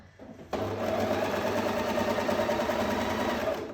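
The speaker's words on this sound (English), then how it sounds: "start overlocking, and then once the overlockers grab the first few stitches, that's when you can start pull" An overlocker serger stitches a decorative rolled lettuce hem. It starts abruptly after a brief pause and keeps up a steady, even mechanical whirr close by until the end.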